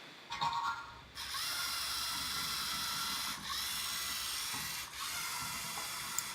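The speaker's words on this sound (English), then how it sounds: "the robot went straight, turned, and then went straight again" A small programmed robot drives straight, turns, then drives straight again, its motors giving a faint steady whir with brief dips between moves.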